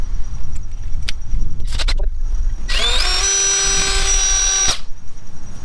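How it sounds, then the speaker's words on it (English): A power drill whirs up to a steady high whine for about two seconds, drilling a 3/16-inch hole to mount motorcycle wind deflectors, then stops, with a few clicks and taps before it. "That's where you're going to drill your 3/16 hole"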